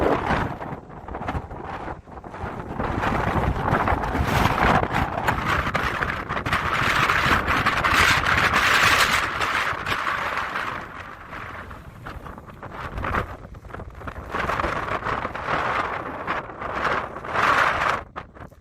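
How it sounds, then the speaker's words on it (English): Gusting desert wind buffets the microphone outdoors at the Northern Bowl of Fire in Lake Mead National Recreation Area, Nevada, a loud roaring rush that swells and eases across the whole stretch. "my voice is probably going to be hard to hear soon, depending if we have a gust of wind"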